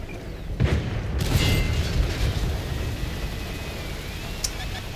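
A HESH shell fired from a tank gun in World of Tanks lands as a heavy boom with a sharp onset, followed by a long rumbling decay under continuous engine and battle noise.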